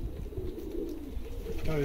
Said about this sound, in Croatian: To je mlad golub, taj leti u pitanje manje.